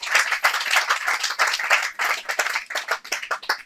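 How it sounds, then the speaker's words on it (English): An outdoor garden event audience applauds the host in a brisk, dense burst of many hands clapping, fading slightly at the end. "Please give a big round of applause for your host today, Philip Jackson."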